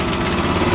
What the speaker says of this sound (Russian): вот мы видим, уважаемые зрители, как запустился мотоблок мотор Sitch